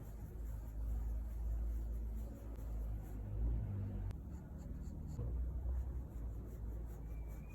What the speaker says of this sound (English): I'm gonna draw the eyeball inside